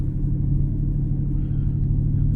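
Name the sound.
Porsche car engine rumbling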